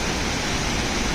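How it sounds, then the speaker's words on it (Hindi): Sajla waterfall roars in a dense, steady rush of white water, loud and close, with no breaks. "देखिए गजब का झरना, गजब का झरना।"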